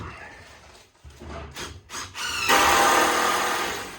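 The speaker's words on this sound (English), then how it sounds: "Just a matter of screwing down the joists" A power drill drives screws down into wooden deck joists, giving a few short bursts and then a loud, sustained whirring run close by, with no talking.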